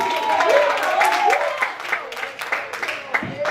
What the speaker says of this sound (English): Clap for everybody up in here.